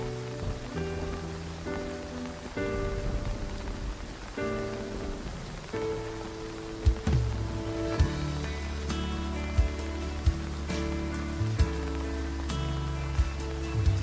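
Steady rain falls with a dense, even hiss that carries on for the whole stretch. Sustained tonal music plays over it, and a few sharper drips or knocks stand out now and then.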